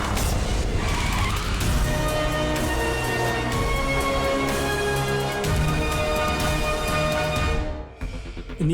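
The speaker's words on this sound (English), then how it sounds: "The result? The Porsche 918 Spider." A Porsche 918 Spider hybrid supercar drives hard, with a loud, sustained engine roar whose pitch climbs and shifts through gears. Tire squeal runs through it, and the sound dips briefly near the end.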